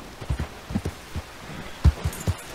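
Horse hooves clip-clop in Red Dead Online, an uneven run of soft, close thuds spaced a fraction of a second apart, with no talking over them.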